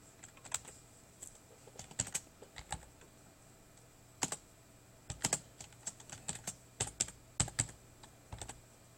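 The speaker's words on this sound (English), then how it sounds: "I'm going to start typing in the rest of the code." Computer keyboard typing while G-code is entered for a CNC motion project, irregular bursts of close, crisp key clicks with short pauses between runs, no talking.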